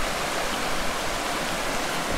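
The River Itching, a stream near Hadrian's Wall, flows in a steady, close broadband rush of water with no breaks and no voices.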